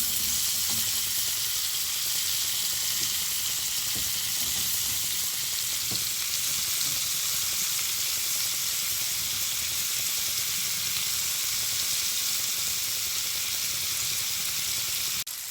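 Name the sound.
mushrooms frying in butter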